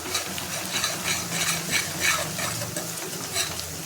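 Masala spices frying in a pan for Agari-style mundi masala: a constant dense sizzle, close and fairly loud, with soft pulsing scrapes as the spoon keeps the spices moving.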